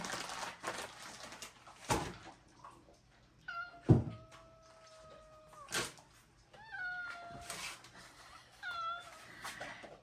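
A cat meows several times, short rising and falling cries spread across the clip, with a few knocks and thumps between them.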